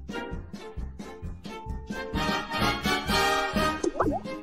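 Apples tumble into hot caramel in a tart dish for a tarte tatin, giving a run of soft, wet plops and thuds in quick succession, close and fairly loud, with no talk.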